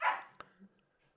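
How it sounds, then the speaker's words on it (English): Two black and tan pups bark in the distance, with one faint bark and a short yip over quiet outdoor background. "Someone's dogs are barking."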